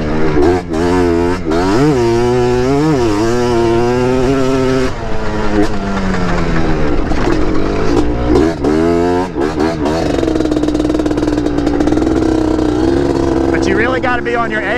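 A Yamaha TRI-Z 250 three-wheeler engine revs hard while riding sand dunes, its pitch rising and falling in repeated throttle sweeps, loud and close, with brief clattery bursts between pulls.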